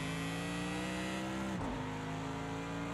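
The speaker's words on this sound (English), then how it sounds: "This car is pretty fun to drive." Mercedes-AMG GT3 race car engine in Project CARS 2, set up for Bathurst endurance racing, drones loud and steady, with a brief dip as it shifts gear midway and no talk.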